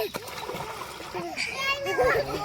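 Children jumping and splashing into water while bathing outdoors, several bright splashes and watery sloshes mixed with excited kids' chatter and shouts throughout.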